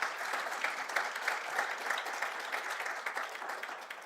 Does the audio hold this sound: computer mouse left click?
no